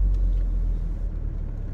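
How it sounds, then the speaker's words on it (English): Steady low road rumble of passing cars in Cardiff in the early hours, a continuous engine drone with no talk over it. "4:30 in the morning and there's plenty of traffic on the road"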